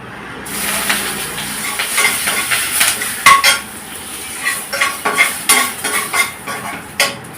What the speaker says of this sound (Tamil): இப்போ ரசத்துக்கு தாளிச்சிக்கலாம்.